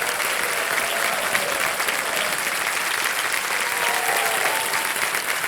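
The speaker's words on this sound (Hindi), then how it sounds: "तालियां बज जाएं इनके लिए।" Steady, dense applause from a studio audience on a Hindi quiz show set, loud and continuous throughout with faint cheering mixed in.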